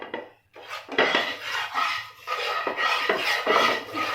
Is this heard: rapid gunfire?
no